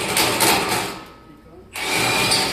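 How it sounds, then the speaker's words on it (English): An impact wrench works on a rusty bumper bolt during a 6.7L Powerstroke bumper install, giving two close, loud rattling bursts separated by a short pause. "Impact on that bottom bolt right there"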